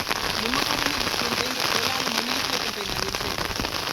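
Rain pours onto a flooded farm field, a dense steady patter with crackling droplets, close and fairly loud, with faint voiced tones running underneath.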